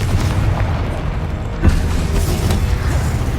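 In Hogwarts Legacy, a Confringo spell bursts into a sudden explosive blast partway through, over a steady loud roar of combat and ambient game noise.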